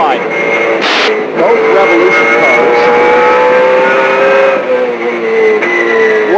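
Trans-Am series race cars scream past on a track, their engines loud and high-pitched with rising and falling gear-change sweeps, one car following another under a race commentator's voice.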